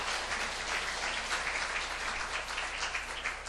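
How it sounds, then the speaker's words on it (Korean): Steady audience applause fills the room during a 65th-anniversary cake-cutting photo moment, dense and continuous throughout with no talk over it. "사진 찍을 때까지 박수."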